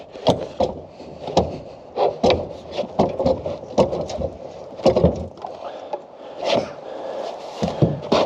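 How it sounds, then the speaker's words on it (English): A gearbox is slid back during restoration of a Mk2 Stalwart military vehicle, making loud, close, irregular heavy knocks, scrapes and clunks of metal and wood in quick uneven bursts. "Gonna have to just slide this gearbox back now"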